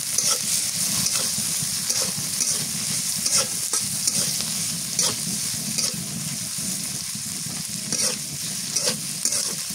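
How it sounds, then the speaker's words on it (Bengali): Boal fish from the river frying in oil with garlic and chili in a pan, a steady, loud sizzle with regular scraping stirs and occasional spatula clicks, no voices. "রসুন মরিচ ভাজা হয়েছে এবার মাছ দিয়ে দিই মাছটা ভাজা নিয়ে"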